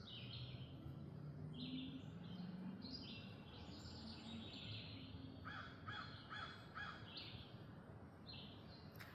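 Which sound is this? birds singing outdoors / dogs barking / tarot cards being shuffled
birds singing outdoors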